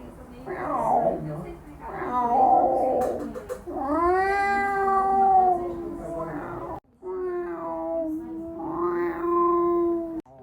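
A cat yowls and meows repeatedly at close range, long drawn-out wailing cries broken by a short pause, with a person's voice mixed in among the calls.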